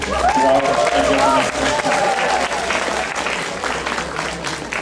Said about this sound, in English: Applause for this boy.